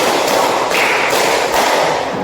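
A school class claps together in a steady rhythmic pattern during a mathematics lesson, bright percussive hand claps landing close and loud with no talk over them.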